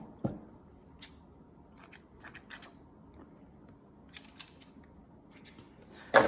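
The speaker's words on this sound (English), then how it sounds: "Obviously, cut all the threads first," Scissors snipping loose threads from sewn fabric, a handful of quiet, crisp separate clicks spread irregularly across a near-silent background.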